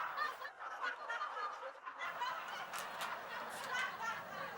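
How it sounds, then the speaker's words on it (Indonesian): Chickens cluck and squawk faintly nearby, several birds calling in irregular bursts over a quiet background. "ngurusin ayam nih"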